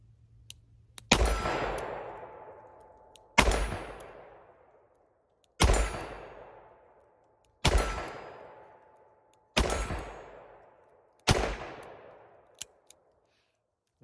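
A Smith & Wesson Model 64 revolver fires six loud single shots, spaced about two seconds apart, each ringing off with a long echoing decay.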